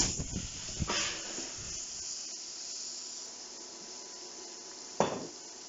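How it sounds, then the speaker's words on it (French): Cognac flambéed in a hot pan with onion, garlic and ginger gives a steady low hiss with a soft whoosh at the start and a sharp metallic pan knock near the end, with no voices. "Je vais flamber au cognac"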